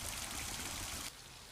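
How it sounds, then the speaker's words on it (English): A backyard waterfall flows in a steady broadband rush of falling water, fairly faint and close, then drops abruptly to a quieter wash partway through, with no voices. "show of the waterfall out back."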